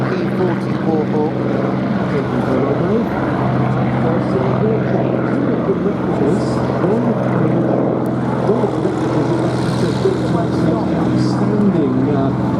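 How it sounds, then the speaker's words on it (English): A P-40 Warhawk fighter flies at the Duxford VE Day anniversary air show. Its loud, sustained propeller engine drone fills the whole clip, with a public-address voice talking over it. "That's the P40 Warhawk."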